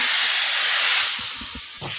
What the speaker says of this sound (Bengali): ফুলকপিটাকে সিটি দিয়ে নিচ্ছি দু তিনটে সিটি দিয়ে দিয়ে দেবো